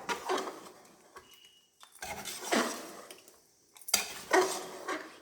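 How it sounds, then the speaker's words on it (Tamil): A spoon stirs brinjal puli kozhambu in a pot, three bursts of scraping and clinking against the metal separated by brief pauses, close and moderately loud. "இது உப்பு காரம் பிடிக்கிறதுக்காக இது இப்படி கலக்கி விடுறேங்க நான்."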